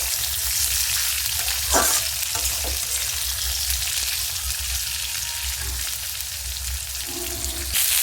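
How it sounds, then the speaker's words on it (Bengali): Chopped onions fry with garam masala, giving off a steady, close, continuous sizzle. An occasional stirring scrape breaks into it, and no voices are heard. "পেঁয়াজ কুচিগুলো দিয়ে এইগুলো কিন্তু খুব ভালো করে প্রথমে ভেজে নিতে হবে"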